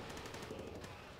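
Rapid automatic gunfire in the World War 2 Call of Duty video game, a dense rattling burst that runs for just over a second and stays steady, with no voices.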